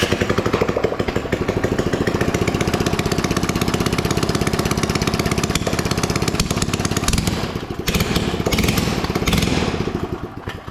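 A small mini bike engine being revived, with no muffler fitted yet, runs continuously. It makes a loud, raspy, rapid putter at steady speed for the whole stretch, with only slight dips in revs.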